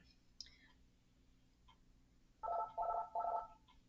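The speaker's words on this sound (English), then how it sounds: "I've got to answer a phone call." A telephone rings in three short electronic bursts near the end, fairly clear above a quiet low hum, after faint clicks and a soft whisper.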